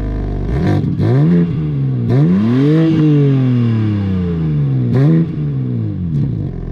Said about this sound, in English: but at least for Alissa, you can tell the engine note is tuned to like a proper major note.